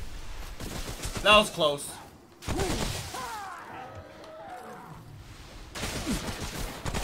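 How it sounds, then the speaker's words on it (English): Gunfire in the video game Subject 2923, with bursts of shots and crashes mixed with game sounds while a person talks over them. "Will you stop shooting at me?"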